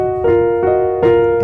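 A piano plays a short phrase from a jazz piece: three struck chords about half a second apart, each ringing and sustaining clearly over a low bass drone, heard alone.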